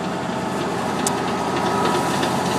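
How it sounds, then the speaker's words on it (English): A tractor clears fields at a retreat, its engine running in a steady, continuous drone at moderate loudness with no talking over it. "enough of hearing this tractor."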